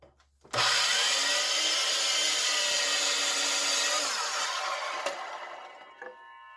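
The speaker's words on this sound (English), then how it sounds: "So I cut them all the same length" A power saw cuts through weathered scrap lumber boards left outdoors for years, a loud steady whine lasting several seconds before winding down, with a few knocks after the blade slows.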